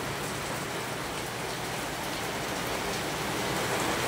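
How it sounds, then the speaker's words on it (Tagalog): Heavy rain pouring steadily onto a road in Lapu-Lapu City, a dense, continuous loud hiss with no breaks and no voices. "Dato sulod na kay medyo kusog yung uwan"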